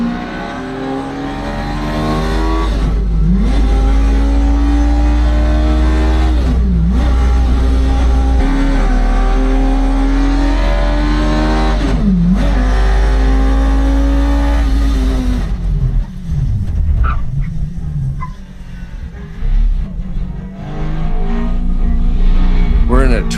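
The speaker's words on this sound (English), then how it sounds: "We're in a Twingo with a motorcycle noise behind us." A rear-wheel-drive Renault Twingo fitted with a Suzuki GSX-R1000 motorcycle engine revs hard from inside the cabin, a loud, rising and falling engine note through repeated gear changes, then eases off to uneven throttle blips.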